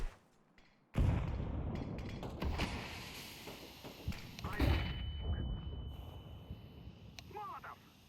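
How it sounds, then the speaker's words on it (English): A sudden thudding burst opens a video game flashbang throw, followed by a rumbling wash of noise, a second thump and a thin high whine, with voices talking quietly underneath. "Throwing a flashbang."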